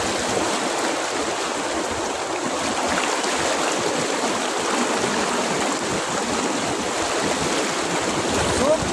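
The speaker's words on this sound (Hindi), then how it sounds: "वरसाद झीणो झीणो चालू है।" Light rain falling outdoors in Gir, a steady, even wash of fine hiss that stays constant and fairly loud from start to finish with no talk.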